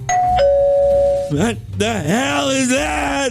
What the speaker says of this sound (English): ringing the doorbell